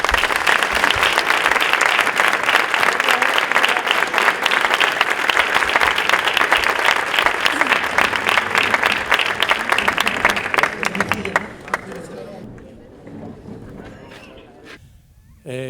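Loud, dense ovation from a large audience at a bullfighting talk in Sanlúcar, sustained clapping that thins out and fades toward the end as a voice begins.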